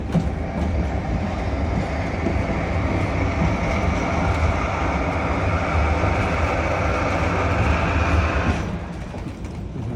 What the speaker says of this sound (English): He's using the pressure in the locomotive to blow out minerals and impurities that can build up in the boiler over time.